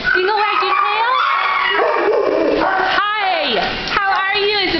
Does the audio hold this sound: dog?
yes